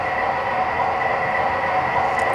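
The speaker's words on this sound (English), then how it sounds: "This time I'm going to show you this is my NS train" An MTH NS model train runs on its track with a steady, close electric hum and rolling whir. The sound stays level throughout, with no breaks and no voices.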